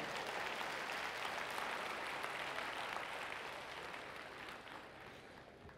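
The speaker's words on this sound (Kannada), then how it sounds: "ಒಂದು ಸ್ವಲ್ಪ ಜೋರಾದ ಚಪ್ಪಾಳೆ ಇಲ್ಲಿ ಬಂದವು ಎರಡು ಕಡೆಯಿಂದ" Audience applause at a live Kannada stand-up comedy show, a dense, sustained clapping from a large crowd that fades slightly toward the end, with no voices over it.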